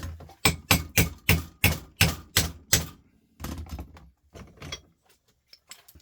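Sharp metallic hammer blows strike a JVC video player part clamped in a vise, about nine evenly spaced hits in a quick steady rhythm, then a few softer, irregular knocks and taps, close and clear with no talk.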